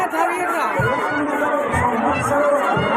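A dense crowd mills around a busy village fair, steady babble of many voices with occasional shouts and cheers from children, continuous and close throughout.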